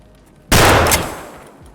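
In Escape from Tarkov, a single sharp, loud gunshot fired at a scav cracks suddenly after a quiet moment and fades into a lingering echo.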